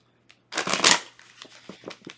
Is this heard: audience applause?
no